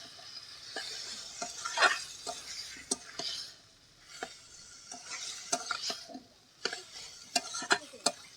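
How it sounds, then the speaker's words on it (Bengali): Elephant foot yam stalks being stirred and fried in spiced oil, with a steady sizzle under repeated scraping and clinking strokes of a spatula against the pan, close and moderately loud. "এখন ভালো করে মিশিয়ে নিয়েছি এবার আরও ভালো করে ভেজে নেব"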